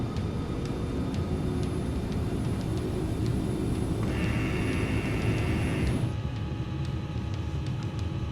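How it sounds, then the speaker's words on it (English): An airliner climbs out after takeoff, its engines a steady, fairly distant broadband roar, with a sustained higher whine entering midway and then cutting off as the sound abruptly changes. "they're in takeoff mode. Accelerating, gaining altitude fast, wings level"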